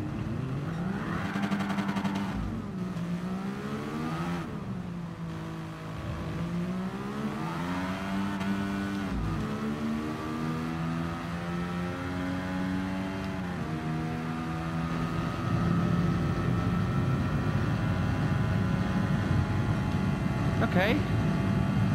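A car engine in the racing game Gran Turismo Sport revs up and down through repeated gear shifts, its pitch climbing and dropping in steady waves, loud and close throughout.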